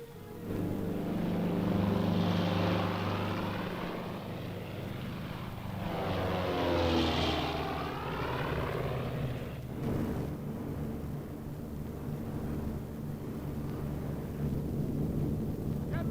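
Military propeller airplane engines drone steadily and loudly at takeoff for an army airborne unit, a constant rumble with a swelling, whining pitch sweep midway, no voices.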